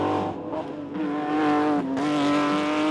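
Porsche 906 and 910 race cars with 2-litre flat-six engines run on an open road during a Tour Auto rally. Their loud, close engine notes rise and shift in pitch as the cars accelerate past.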